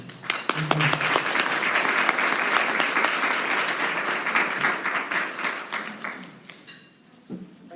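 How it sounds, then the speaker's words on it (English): Loud, enthusiastic applause from a large audience, sustained for several seconds before gradually fading out. "Let's give her a round of applause as she comes forward."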